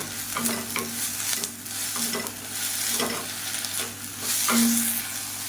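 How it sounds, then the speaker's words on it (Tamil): Ingredients with a small piece of tamarind are sautéed in a pan, the spoon scraping and stirring in repeated strokes over a steady, close sizzle, with no voices. "சேர்த்துட்டு நல்லா வதக்கி விட்டுக்கலாம்"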